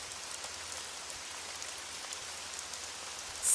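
Steady rain falls continuously, a soft, even hiss of drops with no voices or other sounds over it.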